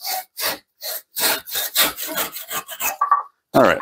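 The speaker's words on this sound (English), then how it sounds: "awkward sawing" A hand crosscut saw cutting through wood on a slightly unstable bench, about a dozen loud, close rasping strokes in an uneven rhythm, separated by brief pauses.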